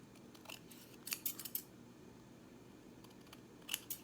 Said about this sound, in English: use your scissors to make sure you even the side